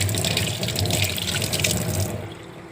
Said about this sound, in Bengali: একটু হাতটা ধুয়ে নিই